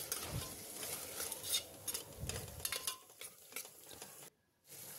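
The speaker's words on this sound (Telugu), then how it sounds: "పెరుగు వేసుకొని ఒకసారి అంతా బాగా ఫ్రై చేసుకుందాం." Tomato and yogurt fry in a pan for kuska biryani, a close, soft sizzle broken by the scrape and clatter of stirring, ending with a short pause before the stirring resumes.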